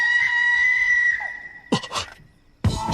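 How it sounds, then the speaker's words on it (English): Anime character Asahina lets out two short, loud screams, sharp bursts of sound following a steady high tonal tone that fades out beforehand. "only to hear Asahina scream"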